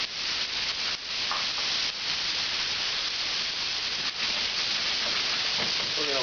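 A dense, continuous sizzle from onions and carrots frying in a hot pan used earlier for braising pork, broad and steady with a few small clicks and shifts as they settle.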